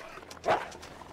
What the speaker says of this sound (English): Here's the dog.